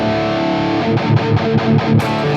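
Ibanez electric guitar played through a Mesa Boogie JP-2C amp preset with a Tube Screamer in front, giving tight, heavily distorted chugging riffs with a steady rhythmic pulse, loud and close with no voices.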